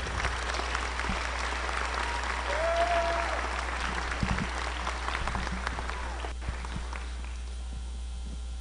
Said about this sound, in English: Let's recognize these students with a round of applause,